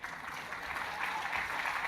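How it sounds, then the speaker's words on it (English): Applause from a conference audience at a climate summit, a steady wash of clapping from a crowd that swells slightly and holds without breaks. "Yes, you can applaud."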